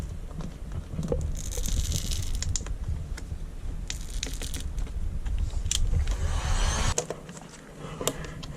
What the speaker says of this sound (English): Just slowly peel it off.